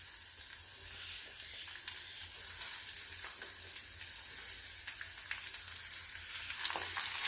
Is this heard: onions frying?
yes